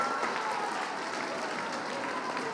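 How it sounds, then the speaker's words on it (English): A crowd gives steady, fairly faint applause for teachers, an even, continuous clatter of many hands heard from some distance, with no speech rising above it. "give your teachers a big round of applause for their awesomeness"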